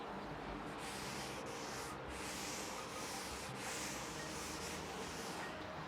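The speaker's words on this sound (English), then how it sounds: "I'm going to use one of our prep wipes here to just clean this area of any contaminants" A prep wipe rubbed over the trunk area of a Tesla Model Y to clean off contaminants, a soft, steady, close swishing rub that continues without a break.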